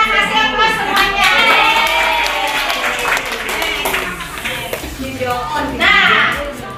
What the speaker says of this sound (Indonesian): Oke, kita kasih aplaus semuanya.